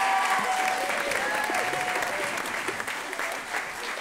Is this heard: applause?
yes